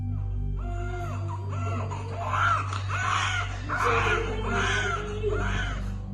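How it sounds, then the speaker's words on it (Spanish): Haunted baby doll crying like a real infant, a series of rising and falling wails repeating over a steady low hum, fairly loud and close. "El muñeco del bebé lloraba como si fuera un bebé real"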